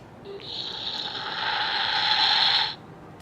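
A synthesized airplane whoosh from a Monopoly Ultimate Banking game unit, a buzzy droning tone that swells slightly for over two seconds and then cuts off, played through a small speaker.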